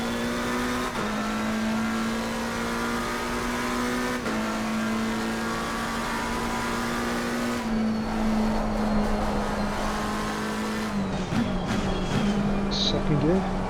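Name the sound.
McLaren 720S EVO race car driving, Assetto Corsa Competizione video game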